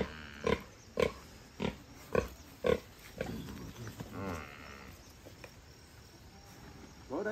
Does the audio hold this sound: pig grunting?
yes